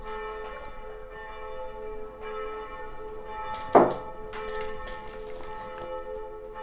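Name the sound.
church bells ringing in the background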